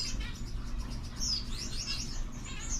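A four-year-old pet bird, a male breeder kept at home, gives bright chirps and tweets close by, short and irregular, over a steady low background hum.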